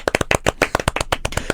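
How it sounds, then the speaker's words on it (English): Rapid hand claps from a small group or a single person, a quick uneven burst of sharp slaps spread over a second and a half, close and fairly loud. "I'll give you an applause right now"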